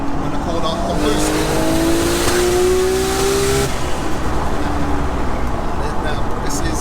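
An 800bhp R34 Nissan GTR with a 2.8L stroker engine pulls hard on boost through a corner, loud rising engine note heard from inside the car with voices talking over it.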